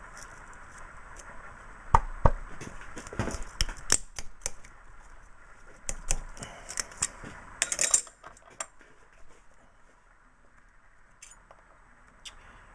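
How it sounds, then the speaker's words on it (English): Pliers grip spot-welded steel wheelhouse panels for a Willys CJ3B Jeep held in a vise and peel them apart, giving scattered metallic clicks, scrapes and one sharp snap at close range against a quiet background. "we're going to grab this with some pliers and we're going to peel it right apart"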